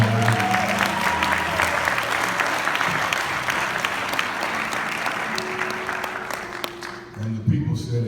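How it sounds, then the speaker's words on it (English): An audience at a church scholarship presentation for youth in Kansas East claps loudly and steadily for the 2016 recipients. The applause fades near the end as a few voices come in. "Why don't we clap our hands for all of them?"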